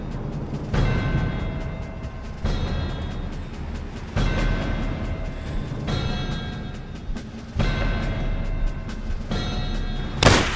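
Gunfire rings out in Call of Duty: World at War during a Stalingrad battle, with repeated heavy bursts of shots every second or two over a constant rumbling battle backdrop.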